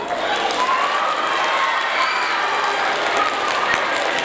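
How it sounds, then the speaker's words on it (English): Audience at a 7th grade school awards ceremony applauds in a steady, dense wash of clapping from a large crowd that fills the hall without letup. "Let's give them a round of applause."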